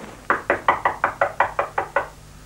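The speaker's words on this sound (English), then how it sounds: "a banging on the door like that?" A sharp run of about ten evenly spaced knocks on a door, firm and close, rapping quickly in a steady rhythm before stopping, with no voices.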